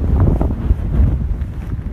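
Strong wind gusts ahead of a storm with a dust cloud batter the microphone as loud, rumbling buffeting that rises and falls without a break, close and harsh.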